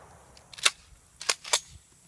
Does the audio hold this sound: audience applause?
no